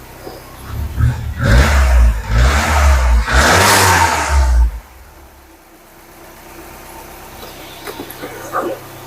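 A Ford Cosworth engine revs loudly in a workshop in several rising bursts, then settles into a much quieter idle with faint ticking.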